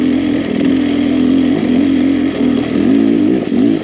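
A Beta X Trainer dirt bike engine chugs at low revs in third gear, a deep uneven thrum that wavers as it lugs along, loud and close with no talking.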